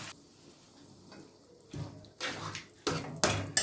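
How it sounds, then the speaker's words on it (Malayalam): Boiling water is poured into a potato masala for puri in a few separate bursts of splashing and gushing, each louder than the one before, after a quiet start. "ഇനി തിളച്ച വെള്ളം ചേർക്കുക പച്ചവെള്ളം ചേർക്കരുത്"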